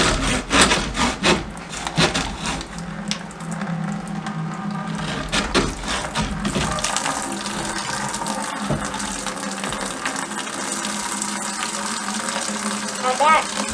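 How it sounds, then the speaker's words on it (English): Bathroom drain pipe being sawn through under a mobile home: rhythmic rasping saw strokes at close range, with trickling water and someone talking. "I'm going to go ahead and start cutting sections of the pipe out"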